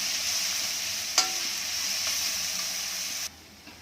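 Chopped onion frying in a pan until reddish-brown, a steady close hiss with a brief clink of stirring near the start. The hiss drops noticeably quieter just before the end.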